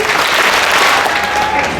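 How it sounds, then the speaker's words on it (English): A graduation crowd honouring the class of 2022 applauds in a steady, dense wash of clapping that fills the whole moment, loud and continuous. "And then we will clap twice, okay?"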